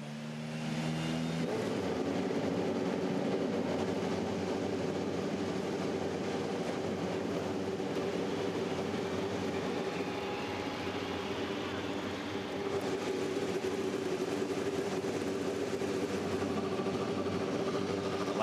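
Several IndyCar race car engines fire up and idle together at the Milwaukee Mile oval, a loud, steady mechanical roar with droning tones that holds evenly from start to finish after a brief quieter opening.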